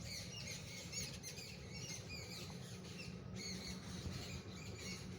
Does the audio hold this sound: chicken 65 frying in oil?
no